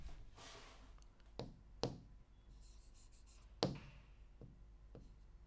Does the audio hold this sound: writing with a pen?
yes